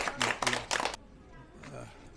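A small audience claps for a young guide at the end of a guided heritage tour of Hongju town fortress, a brief burst of scattered hand claps close by that stops abruptly and leaves quiet murmuring.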